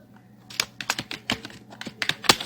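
Close computer keyboard typing gives irregular sharp key clicks, around a dozen strikes in quick uneven bursts over a faint background hum.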